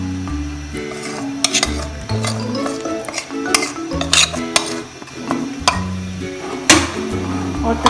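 A spoon stirs rice kheer in a pot after boiled milk, sugar and blended rice go in, giving repeated scraping and light metallic clinks over steady background music.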